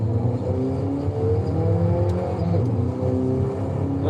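An exotic supercar cruises in Forza Horizon, its engine humming at a steady moderate pitch, close and continuous, with a brief rev change partway through.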